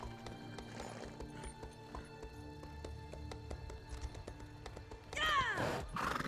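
A horse gallops in The Elder Scrolls Online, quick rhythmic hoofbeats under a game music bed, followed by a swelling burst of sound near the end.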